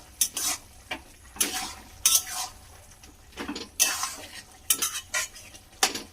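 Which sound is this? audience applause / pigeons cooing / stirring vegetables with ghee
stirring vegetables with ghee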